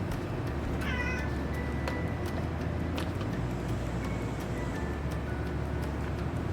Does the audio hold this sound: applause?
no